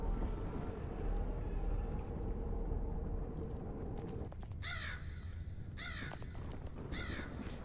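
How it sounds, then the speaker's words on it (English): A video game crow caws in three quick harsh bursts near the end, loud and close, after a stretch of steady rumbling game ambience. "That crow is laughing at us."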